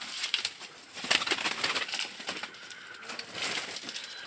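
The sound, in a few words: pigeons flying off in fright, flapping wings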